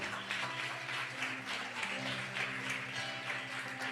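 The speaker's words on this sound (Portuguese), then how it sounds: "Você pode aplaudir o Senhor por essas vidas, por esse momento." A church congregation applauding during a baptism service, with soft steady clapping heard from some distance in a reverberant hall, faint and continuous, with a low tonal hum beneath.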